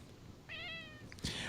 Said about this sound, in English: Was that a cat?